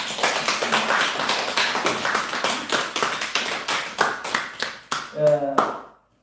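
Church congregation at a Sabbath service applauding a visiting nephew: close, uneven rounds of hand claps that rise and fall in bursts before stopping abruptly, with a brief voice near the end.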